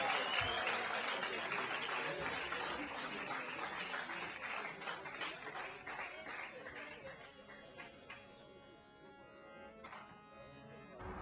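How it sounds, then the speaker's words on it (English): Audience applause breaks out for a guest introduced on stage, a dense wash of clapping that holds steady and slowly thins toward the end, with music faintly underneath. "Give him a round of applause."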